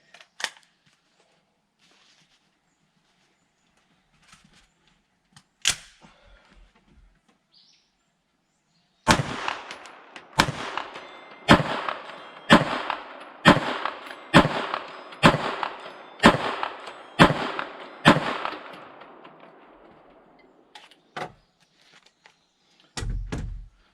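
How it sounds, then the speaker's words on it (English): Shots from a CMMG Banshee 9mm fired outdoors at a steel plate 100 yards away: about ten sharp, loud cracks in a steady, evenly spaced string, with a few isolated shots before it and no talking. "All right, we'll take some shots at that 100-yard plate with the old Banshee."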